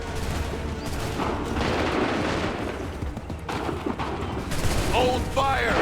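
A dense musket volley rolls through a battle in Assassin's Creed III as a sustained crackle of overlapping shots. Chaotic combat noise and shouted orders fill the scene.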